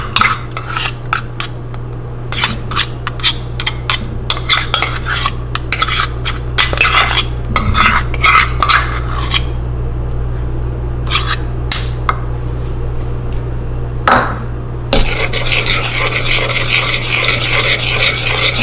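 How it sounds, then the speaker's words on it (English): A spoon stirs peanut butter into a hot boiled mixture in a pot, scraping and clinking against the metal in loud, irregular strokes over a low steady hum, with no talk. "You just stir that around until it melts."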